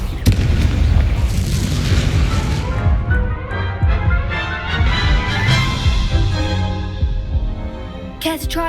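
The Incendio fire spell in the video game Hogwarts Legacy bursts out with heavy booming crashes and crackling impacts, dense and loud, fading after several seconds.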